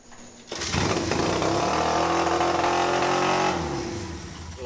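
A two-cylinder motorcycle engine catches after a quick crank and roars up to a steady, loud, throbbing idle close by, holding for several seconds before easing off slightly.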